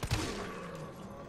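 A gun fires at a zombie in Resident Evil 3, making a sharp, loud shot that fades into a long, booming echo.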